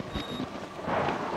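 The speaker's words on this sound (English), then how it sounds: "That lightning made me jump a bit." A brief burst of thunder with lightning outdoors in the game Outlast, a rumbling swell over a hiss of rain and wind, loud and close, no voices.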